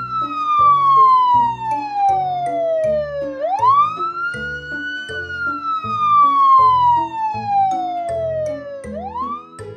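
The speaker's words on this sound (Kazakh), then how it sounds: "Бұл апаттық газ қызметі." An emergency gas service vehicle's siren wails loud and close, each long tone sliding slowly down and then sweeping quickly back up in a repeating cycle, heard alone.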